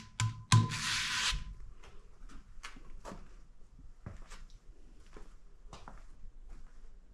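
A two-belt sanding machine with 60 and 120 grit belts works wood for a stump table, giving faint repeated rasping strokes after a louder opening burst of grinding.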